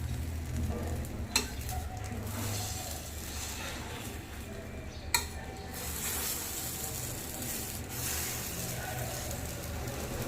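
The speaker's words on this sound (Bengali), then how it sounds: "দু সাইডটা ভালো করে সেঁকে নিলাম" Taler patishapta, a palm batter crepe, frying in a pan over a low gas flame, with a steady soft sizzle throughout and a couple of sharp clicks of a utensil against the pan.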